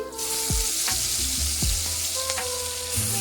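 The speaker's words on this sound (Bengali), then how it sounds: "এটা এখন ভালো করে মাখমু তারপরে ইলিশ মাছ সিদ্ধ যাইব আমি মাছটা ছাড়তেছি" Hilsa fish slid into a pan of hot, oily spiced mixture in a Bengali kitchen, giving a loud continuous sizzle and frying hiss, broken by several utensil scrapes and clinks from stirring.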